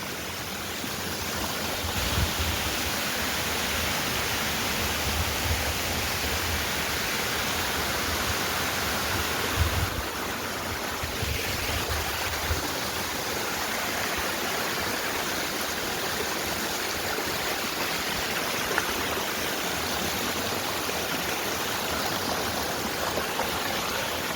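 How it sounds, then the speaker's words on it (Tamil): Constant rushing water from a waterfall in Balangoda, Sri Lanka, a broad steady roar that continues without break, with no voices. "3வது வாட்டர் ஃபால்."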